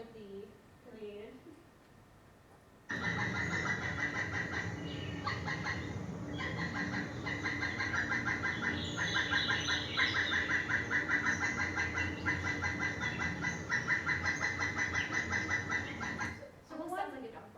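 A recorded pileated woodpecker call plays for about fourteen seconds: a loud, steady run of repeated high notes, starting abruptly after a brief spoken introduction and cutting off just as sharply, followed by talk.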